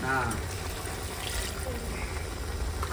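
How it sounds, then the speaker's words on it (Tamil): Water poured into a pot of rice for cumin samba biryani, a steady splashing and trickling fill that starts loudly and continues under someone speaking. "தண்ணி ஊற்றிக்கிறேன்ப்பா"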